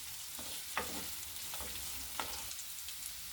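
Onions and ground spices fry for fish biryani in a pan with a continuous close sizzle, broken by a few soft scraping stirs spaced across the moment.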